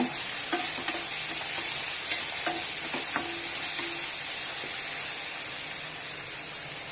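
A spoon stirs tamarind into a mixture frying in a pan for coriander thuvaiyal, under a steady hiss and sizzle, with a few soft scraping knocks against the metal.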